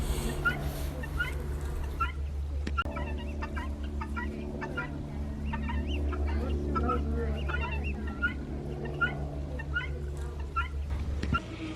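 Hens cluck softly and repeatedly over a steady low hum, with occasional short calls scattered throughout and a faint voice in the background.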